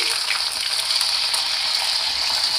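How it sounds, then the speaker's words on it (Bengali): Ginger and green chilli paste frying in a pan gives a steady, loud hiss and sizzle as a splash of water is added, with continuous bubbling spitting throughout and no voices. "এবার এর সাথে আমি একটু জল মিশিয়ে দিচ্ছি"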